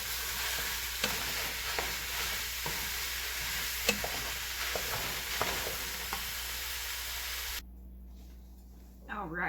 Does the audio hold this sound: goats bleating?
no